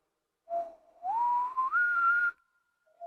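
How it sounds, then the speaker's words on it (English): Lip whistling with no fingers, demonstrated during a brass warm-up: one clear, fairly loud sustained tone that holds steady, then rises in a few stepped glides before stopping, with a brief faint return at the end. "whistle without your finger first."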